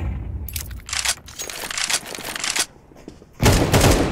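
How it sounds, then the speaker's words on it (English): A flashbang grenade going off in a video game, loud crackling bursts and sharp repeated pops followed by a brief lull and another loud blast. "I'm throwing a flashbang."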